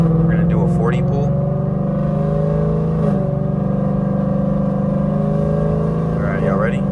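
A 2024 Ford Mustang GT set to drag strip mode pulls hard, its loud exhaust climbing in pitch through several gear changes, with brief breaks between the rising sweeps.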